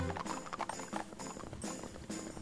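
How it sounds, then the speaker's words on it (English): Galloping horse hooves in Barbie Horse Adventures: Wild Horse Adventures, a rapid rhythmic clip-clop under game music, steady and fairly prominent through the whole stretch. "I can very faintly hear her horse."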